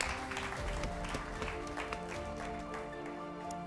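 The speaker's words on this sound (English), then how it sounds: "Round of applause for you." An audience at a school quiz competition final in Ogun State gives a round of applause, a faint, steady patter of clapping from a hall crowd with some background murmur.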